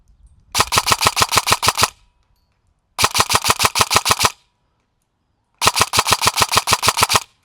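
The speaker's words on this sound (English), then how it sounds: "Let's see if we can shoot a little bit further" An airsoft rifle fires at a distant target roughly 200 feet away: three loud full-auto bursts of rapid, evenly spaced shots, each lasting over a second, separated by clean silence.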